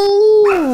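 A single close, loud dog vocalization, a drawn-out howling bark that holds a tone and then slides downward, heard alone and lasting under a second.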